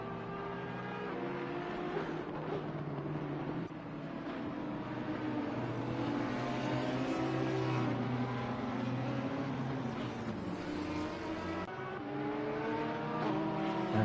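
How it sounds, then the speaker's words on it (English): Several race cars in a sim racing game at Indianapolis roar continuously with rising and falling engine notes, a steady loud layered drone of multiple engines throughout. "And Frank, as he watches Vantage run wide there on the exit of turn 7"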